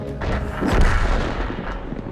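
A heavy tank cannon blast in a video game, from a Tiger P, booms and rolls out, a deep explosive report with a long rumbling tail, loud and close.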